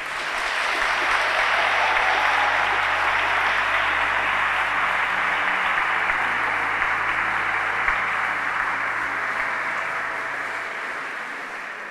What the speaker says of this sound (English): Do give all of yourselves another round of applause.